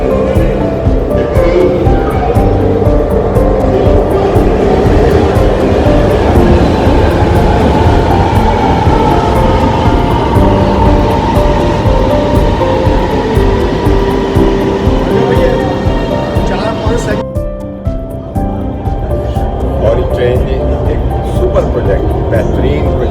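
A Lahore Orange Line metro train runs with a loud, steady rumble and rising whine, the roar easing near the end; a voice talks over it throughout.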